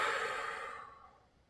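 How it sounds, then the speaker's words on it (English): One deep, breathy exhale after a tough golf core workout, airy and close, fading to quiet within about a second and a half. "Breathing deeply."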